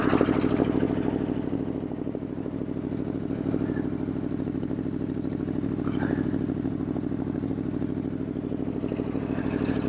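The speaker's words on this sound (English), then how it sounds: "So we got to shut off the bike." Aprilia Tuono motorcycle engine running steadily for the full stretch, a close, continuous low rumble with faint clatter, apparently stopped on a road after losing a part.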